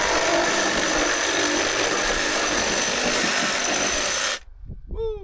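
A power sander works over wooden deck steps with a loud, steady, rough grinding roar that runs for about four seconds and then stops abruptly, followed by a brief voice.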